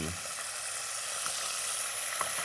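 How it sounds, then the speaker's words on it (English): Anchovies toast in a hot pan with a steady, soft hiss of sizzling that runs the whole time, fairly quiet, with a few faint pops. "what we're doing is toasting these Sizzle, anchovies."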